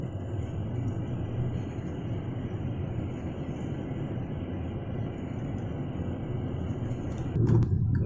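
Proton X50 three-cylinder engine idling quietly, a low steady hum and rumble heard from inside the car, with a brief louder disturbance at the end.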